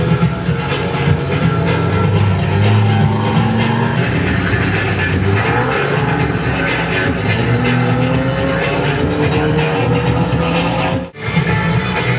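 A race car engine drones loud and close, its pitch rising and falling through gear changes before cutting out sharply near the end, with a steady roar held throughout.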